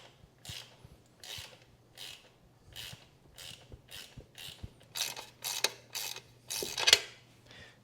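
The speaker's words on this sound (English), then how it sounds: "I'll tighten this down with a wrench" A hand wrench ratchets in steady, repeated rasping strokes as a bolt is tightened on a 1971 Honda CB350 motorcycle. The strokes come close up and rhythmic, growing a little louder and quicker toward the end.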